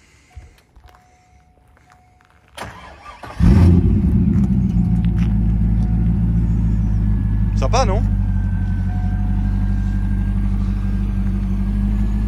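A 1998 Chevrolet Corvette C5 with a T-top starts with a short crank and catches into a loud, deep, steady idle that runs to the end, with a brief voice heard over it.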